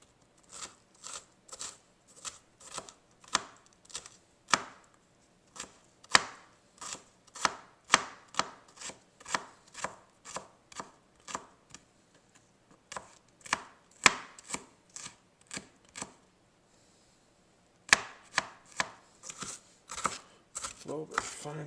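A knife chops green pepper finely on a cutting board for an omelette, a rapid run of crisp, evenly paced taps with short pauses between bursts, close and fairly loud.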